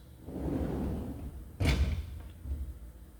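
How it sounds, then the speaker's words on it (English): The enclosure doors of a CNC machine with a Renishaw tool probe are shut in a workshop, making a single dull thud against a steady low machine hum. "before we can do that, let's shut our doors"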